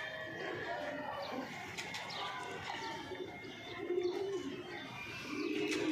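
Soft pigeon coos and scattered bird chirps in an outdoor setting, steady background noise with occasional louder calls near the end.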